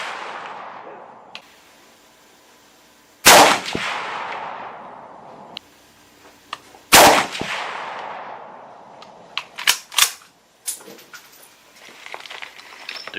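Mosin rifle with a scope fired at a range, two sharp, loud shots a few seconds apart, each followed by a long fading echo, then a cluster of quicker, quieter cracks and rattles.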